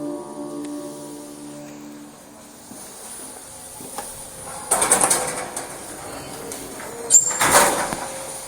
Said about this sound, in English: why the doors rattle while opening